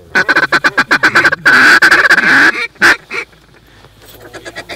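A big, low flock of geese honks loudly and close during a waterfowl hunt, with a rapid burst of overlapping calls and long honks, then quieter, scattered honks trailing off.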